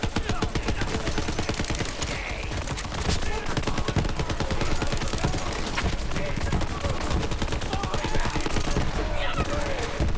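Rapid automatic gunfire in Borderlands 3 combat, a dense continuous fusillade of loud shots, with a voice faintly under the firing.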